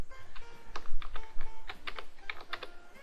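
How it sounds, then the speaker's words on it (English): Keys on a computer keyboard are pressed repeatedly, Alt with the left and right arrows while adjusting letter spacing, giving a run of close, crisp clicks in an irregular rhythm with no speech. "you hold your Alt and arrow, left and right arrow keys to adjust it"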